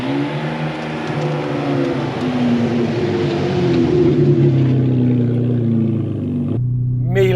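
Steady cabin drone of a Ferrari 599 driving on the road, a loud continuous engine hum with shifting tones that drops away abruptly near the end.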